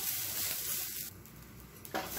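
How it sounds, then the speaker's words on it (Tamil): Grated coconut and curry leaves fry in a pan in a steady, close, bright sizzle that eases slightly partway through, with a small stirring knock near the end and no talk. "நல்லா வறுத்துக்கலாம். இது கூடவே ஒரு 4 கருவேப்பிலை சேர்த்துக்கலாம் வாசனைக்காக."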